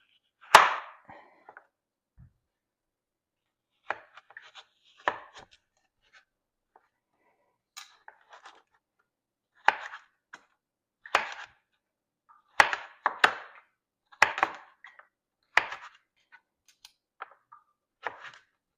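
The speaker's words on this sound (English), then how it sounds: "So now we need to cut up the squash and cube it." A very sharp knife chops a butternut squash into cubes on a cutting board, giving a long run of crisp, close, separate cuts in loose clusters with short pauses between them.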